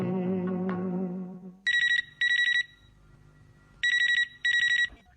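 Telephone ringing on a radio phone-in request show, two pairs of bright electronic trills separated by a pause, loud and clear, following a fading film song.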